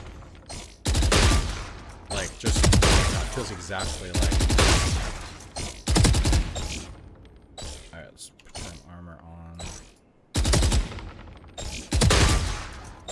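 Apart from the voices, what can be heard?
rifle gunfire in the video game Valorant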